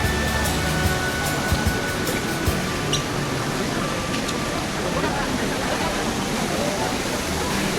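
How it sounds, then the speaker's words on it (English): Indoor waterfall in the waterfall garden of The Hyundai Seoul shopping mall in Yeouido, a steady broadband rush of falling water with faint mall chatter and a few brief clicks over it. "we arrived at the waterfall garden here"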